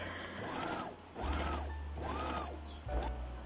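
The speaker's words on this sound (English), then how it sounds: "so this is me hemming my shirt dress." A sewing machine hems a shirt dress in short mechanical bursts, about three even runs with brief pauses between them, close and moderately quiet with no talking.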